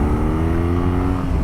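A BMW R NineT Option 719 retro motorcycle's engine drones steadily at close range, a loud, even, meaty rumble held on the throttle without pause.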